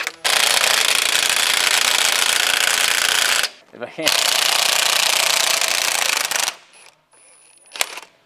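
A wrench hammers at a stubborn bolt on an Allis G tractor in two long, loud, rattling bursts with a short gap between them, followed by a sharp clank and a brief spoken voice.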